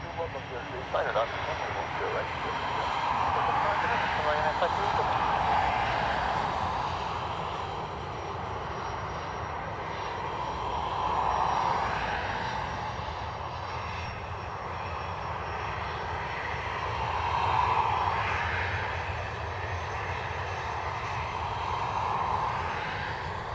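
A Bombardier Challenger jet passing at Dublin Airport gives a steady, broad engine roar that swells and fades gradually over a long stretch, fairly distant and continuous.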